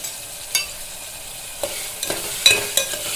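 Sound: brinjal frying and stirring with chilli, turmeric and salt

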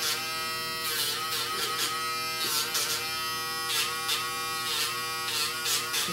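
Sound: Dremel rotary tool grinding a nail

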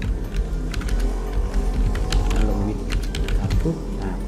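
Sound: typing a name on a computer keyboard

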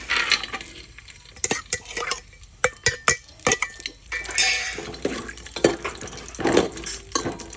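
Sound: cashews and almonds frying in ghee

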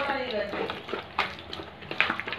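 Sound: stirring Maggi chicken seasoning into prawns

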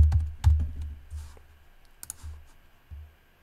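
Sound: typing on a computer keyboard

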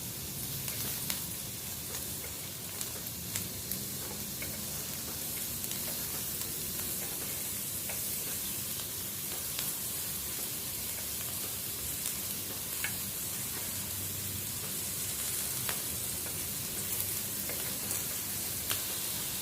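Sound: shrimp and cheese sizzling on grill

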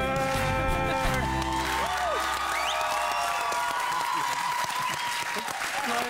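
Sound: audience applause for a singer

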